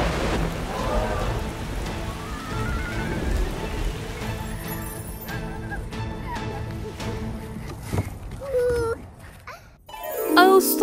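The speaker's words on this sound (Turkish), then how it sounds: "Tropikal yağmurların ayıdır." Tropical rain pours steadily, with a rumble of thunder, in a children's video. The rain sits under soft background music and fades before a brief louder chime at the end.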